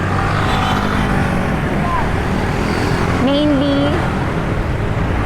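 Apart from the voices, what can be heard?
public utility jeepney engine in street traffic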